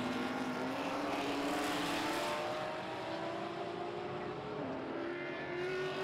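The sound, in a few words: Ford Mustang race cars racing on track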